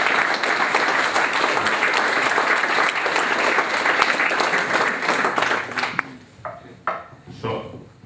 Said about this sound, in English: if we can just give the lads from under 16-2020 a round of applause